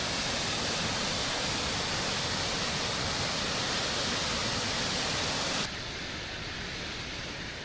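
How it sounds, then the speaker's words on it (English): A waterfall in a granite gorge roars as dense, steady broadband rushing, loud and unbroken, dropping abruptly to a softer but still constant wash near the end. "We'll stop for waterfalls."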